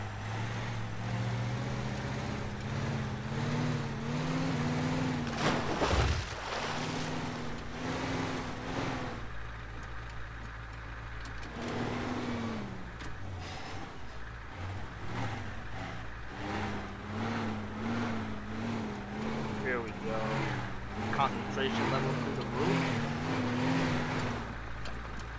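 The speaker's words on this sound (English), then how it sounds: "So let me try to drive this big truck." A big truck driven in the game Teardown, its engine droning and shifting pitch steadily as it revs and accelerates, with a brief sharp bang midway and no talking.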